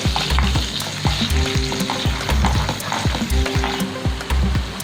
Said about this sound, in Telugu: ఇలా నెయ్యిలో పన్నీర్ పేస్ట్ని కొంచెం ఫ్రై చేసుకోవాలి